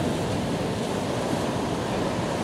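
Ocean surf at Kuta beach, Bali, with reefs far offshore: a dense, steady roar of breaking waves mixed with wind buffeting the microphone, constant and fairly loud with no distinct individual crashes.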